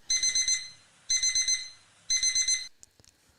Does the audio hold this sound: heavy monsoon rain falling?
no